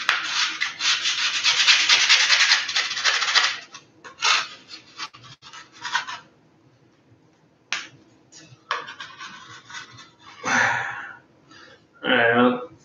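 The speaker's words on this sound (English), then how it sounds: "Let's see if I can scrape some more off on this one." Ski wax being scraped off a ski with a scraper, one long continuous rasping stroke and then a series of shorter separate scrapes, close and fairly loud.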